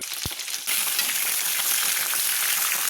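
Shrimp frying in a hot wok: loud, steady sizzle with a brief thump at the start, then continuous bright crackling hiss.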